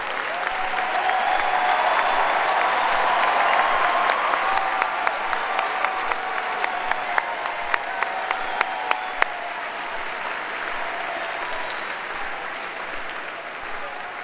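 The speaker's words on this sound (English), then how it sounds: "Let's give them a round of applause." Sustained applause from a large freshman convocation audience honoring student leaders, filling the hall steadily for about nine seconds with a few sharp louder claps standing out, then thinning slightly toward the end.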